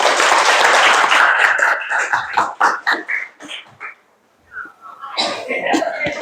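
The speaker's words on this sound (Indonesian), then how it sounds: "Oke, bisa beri aplaus dulu." A classroom audience applauds in a loud, dense burst for about two seconds, then scattered claps and voices follow, a short pause, and more murmuring and clapping.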